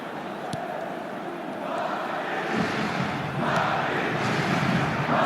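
A stadium crowd in the eFootball 2026 football video game roars and cheers continuously, swelling in waves with a broadcast-style commentary bed underneath.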